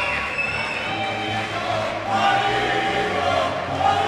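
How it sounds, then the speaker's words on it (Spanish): A Muay Thai fight audience gives an ovation to the winning local fighter after a knockout, a dense, continuous crowd roar with cheering that swells midway, heard from within the venue. "Ovación por parte del público"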